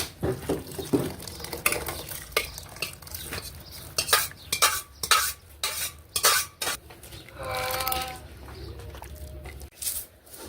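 Metal utensils clank and scrape against a pot as dal is added to a tempering and stirred, in irregular bursts, with stirring sounds and a faint sizzle between the knocks.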